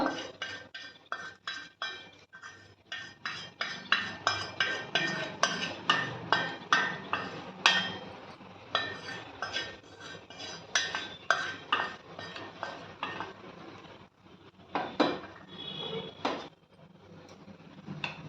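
A metal spoon stirs gongura pickle in a vessel, giving repeated close clinks and scrapes in a steady rhythm with short pauses and no voices.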